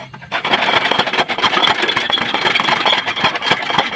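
A grass-cutting machine's small engine idles and chatters at night, a steady close mechanical drone with rapid rattling pulses after a brief quieter start.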